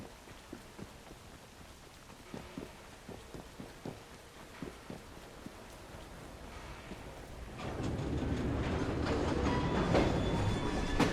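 A train runs in the video game Assassin's Creed Syndicate: faint rhythmic wheel clicks on the rails at first, then a louder, fuller rolling rumble with some metallic squeal takes over. No one speaks.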